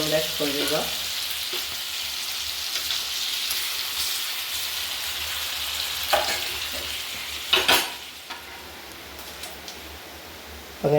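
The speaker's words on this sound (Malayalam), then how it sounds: "നമ്മുടെ കൊഴുവ വറുത്ത്" Kozhuva fish sizzles and spits steadily as it fries in a pan for a roast, a dense crackling hiss with a few louder pops and stirring clatters near the end.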